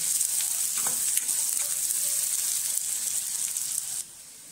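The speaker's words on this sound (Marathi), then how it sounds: "कांदा चांगला मऊ शिजून घेऊ आपण." Onions for a wild monsoon-vegetable curry fry softening in a pan, giving a steady bright sizzle with a few faint clicks of stirring, close, until the sound drops away abruptly near the end.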